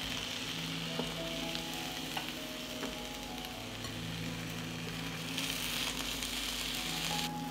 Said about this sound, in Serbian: Na zagrejano ulje spuštam patliđan i pržim po 2 minuta sa obe strane